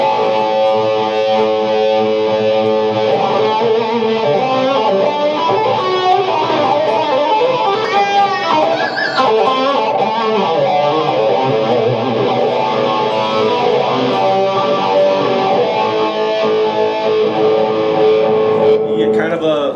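An electric guitar runs through a phaser pedal into distortion for a long, loud, continuous passage of dense, driven playing with a lush swooshing sweep and no talk.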